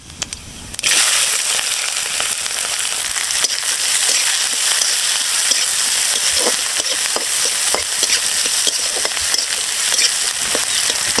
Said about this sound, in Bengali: এই যে কুচিয়ে রাখা পেঁয়াজ রসুন আর কাঁচা লঙ্কাটা এখন দিয়ে দেবো